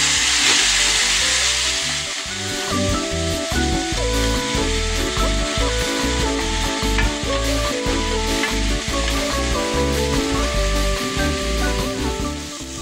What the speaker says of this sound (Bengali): এর মধ্যে দেবো বেটে রাখা টমেটো। ভালো করে কষাবো।